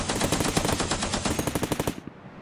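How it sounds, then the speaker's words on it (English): A machine gun fires a rapid, evenly spaced burst of loud shots that cuts off abruptly, leaving a faint tail. "Every machine gun opened together"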